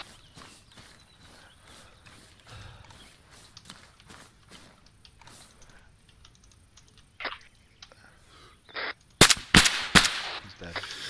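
Gunfire from a video game shooter: a few bursts of loud, sharp shots in the last two seconds, after a long stretch of quieter footsteps, movement and background sounds.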